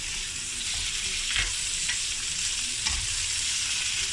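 Chicken frying in a pan with sweet sauce, a dense bright sizzle throughout with occasional soft scrapes of a spatula stirring the pieces.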